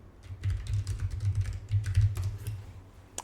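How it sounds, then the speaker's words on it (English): Quick, light keystrokes on a computer keyboard as a password is typed into an Ubuntu terminal, a soft irregular patter of clicks close up with no talking. "type the password"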